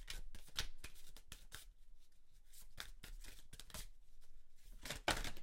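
A deck of Goddess Guidance oracle cards being shuffled by hand, a run of soft, close riffling and flicking bursts with brief pauses, quiet and without talk.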